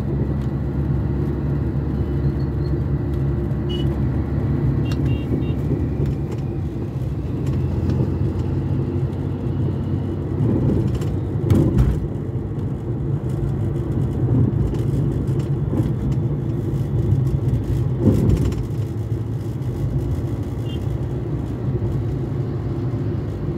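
Inside a car crawling through heavy traffic on the road to Bhiwandi, a steady drone of engine and road noise continues, with a few louder whooshes from passing vehicles.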